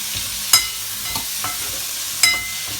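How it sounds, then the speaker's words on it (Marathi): Roasted sandge fry in oil for a Marathi sandge amti, a soft continuous sizzle broken by a few sharp clicks and scrapes of stirring, close by and without speech. "हे जे भाजून घेतलेले सांडगे आहेत ते चांगले तेलात आपण फ्राय करून घेऊया।"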